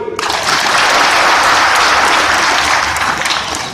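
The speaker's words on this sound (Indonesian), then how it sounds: "Tepuk tangan dulu." Loud, dense audience applause at a KOKAM DIY gathering, starting abruptly and holding steady and close for a few seconds.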